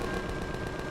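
Rapid automatic gunfire from Empyrion: Galactic Survival rattles in a quick, even burst of closely spaced shots, moderately loud and continuous through the brief moment.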